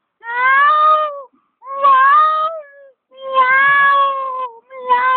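A human voice imitates cats meowing, giving four drawn-out, whiny meows in a row with short pauses between them, loud and close.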